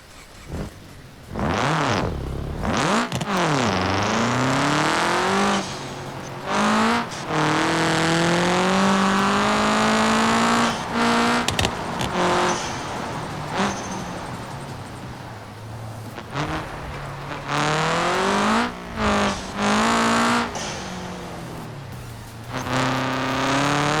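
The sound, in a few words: rally car driving in BeamNG video game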